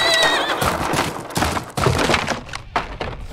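Horse neighing in the action-horror indie game DarkTimes, a loud whinny mixed with thuds, clattering and other game sounds that fill the whole moment.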